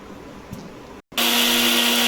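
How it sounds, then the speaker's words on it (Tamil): Mixer grinder whirring as it grinds pepper, cumin, fennel and garlic: a brief low hum, a short pause, then a loud steady high-speed roar that continues to the end. "கொஞ்சோண்டு மிளகு, கொஞ்சோண்டு சீரகம், கொஞ்சோண்டு சோம்பு, பூண்டு போட்டு இதை நல்லா நைஸாக அரைச்சி எடுத்துக்குவோம்."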